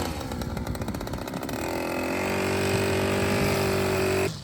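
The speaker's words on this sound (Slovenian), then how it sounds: "Žagat moram." A power saw cuts timber while a horse stable is being built, running loud and close. It chatters at first, then settles into a steady high whine before stopping abruptly.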